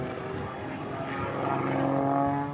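Aerobatic propeller airplane at a national aerobatics competition, its engine droning steadily and rising slightly in loudness as it stalls and spirals through a tumbling manoeuvre, heard from a distance with no talk.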